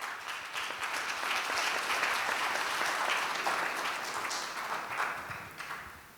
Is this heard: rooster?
no